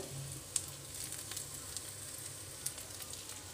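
Onions frying in oil with ginger, cumin, mustard seeds, lentils and curry leaves, a steady faint sizzle with a few sharp crackles and pops over the hiss.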